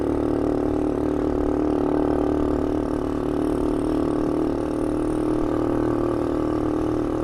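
A mini bike's small stock engine runs steadily in third gear at a constant, moderately loud drone, with no talking.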